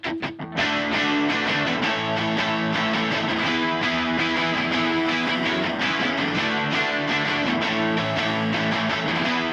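A four-chord rock progression on distorted guitar, bass and drums from a song plays loud and dense, with driving drums and sustained chords throughout.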